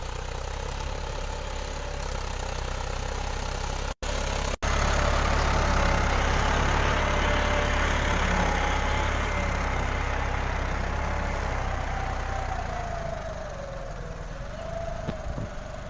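A small Krishi Raj tractor engine drones steadily while working a mouldboard plough, a loud continuous hum with one brief dropout early on and a slight shift in pitch toward the end.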